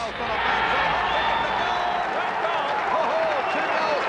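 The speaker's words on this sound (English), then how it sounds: "the crowd was going wild" Large football crowd at a 1984 VFL match roars and cheers in a continuous dense wash of noise, loud and sustained, with a voice faintly under the din.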